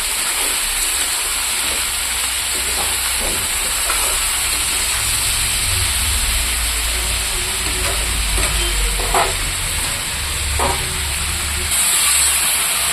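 Vegetables frying with chopped tomato and slit green chillies for a vegetable curry, giving a soft continuous sizzle and hiss under a low rumbling hum, with a few faint clicks of stirring, no talking.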